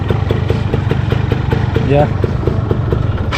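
A Yamaha F1Z two-stroke motorcycle engine idles close by with a steady, crisp rasping pulse, while someone talks over it.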